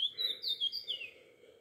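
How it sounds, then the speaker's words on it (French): A bird sings outdoors in nature, giving a few clear, high, whistled chirps that slide in pitch, fairly close and alone against a quiet background. "Il y a souvent un oiseau qui se fait en interprète."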